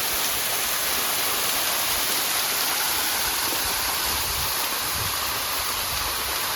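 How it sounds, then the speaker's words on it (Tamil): Namma Falls waterfall in the Kolli Hills gives a steady, dense rushing roar of falling water that stays loud and unbroken throughout, with no voices over it. "இதுதான் நம்ம அருவி"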